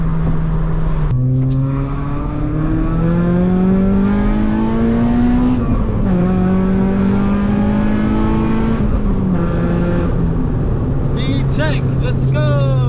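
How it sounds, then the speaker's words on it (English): A Honda Civic Type R engine revs hard, its harmonic whine climbing in pitch as it pushes into VTEC, loud and continuous throughout, with a voice shouting over it. "Don't push me to VTEC!"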